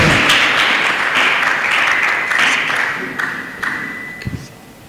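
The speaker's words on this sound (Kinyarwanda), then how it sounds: "Reka twongere Imana amashyi menshi ku bw'ijambo ryayo" A church congregation gives God a big round of applause, dense clapping close and loud, then thinning to scattered claps.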